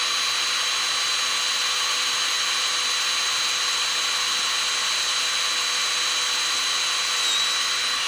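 A power drill with very sharp bits bores into a linotype crucible, sending out a loud, continuous high-pitched grinding whine that stays steady for the full length with no pauses and no voices.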